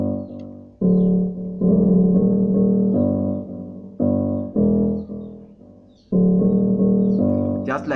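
A soft piano preset in Caustic 3 plays sustained chords in short phrases with brief gaps, mellow and clear with nothing else in the mix.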